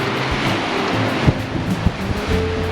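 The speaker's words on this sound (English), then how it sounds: "Just listen to the ocean." Ocean waves break along a California coast in a steady, loud wash of surf with wind rumble, a few low thuds of breaking water rising briefly out of the roar, and no voices.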